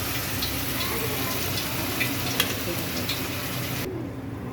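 Soaked moong dal and dill leaves being stirred into a frying pan, a dense steady sizzle with scattered scraping and clinks of a spoon, ending abruptly, without talk.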